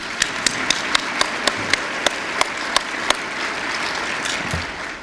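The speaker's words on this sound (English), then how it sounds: "I want to get a round of applause for her." A conference audience gives a full round of applause: dense, steady clapping for about five seconds, with a few sharp individual claps standing out early on before it thins slightly.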